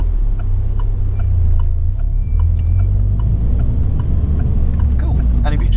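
Regular indicator ticks from a car with the left signal on during a driving lesson in Derby, steady and fairly faint over the constant low rumble of the idling engine and cabin.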